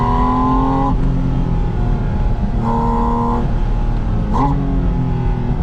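A 2025 Porsche Spyder RS engine revs hard and climbs in pitch through several upshifts, loud and close, with no voices.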